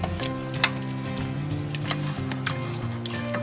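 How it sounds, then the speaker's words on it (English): Meat for a spaghetti bolognese sizzles loudly in a pan while being stirred, a dense continuous frying hiss broken by occasional sharp spoon clicks, close up with no voices. "add your meat. And then stir together."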